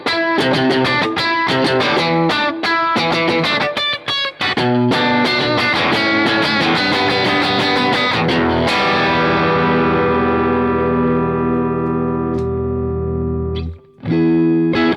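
An electric guitar played through a Triungulo Lab CE-1 Ensemble Crunch chorus and overdrive pedal: crunchy, shimmering chords and riffs, then a long ringing chord that slowly fades before a brief stop and a quick restart.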